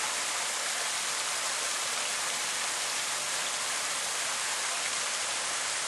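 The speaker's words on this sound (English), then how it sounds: "And this is the big waterfall." A large waterfall feeding a backyard koi pond pours continuously, a dense, steady rush of falling water heard close and unbroken with no voices.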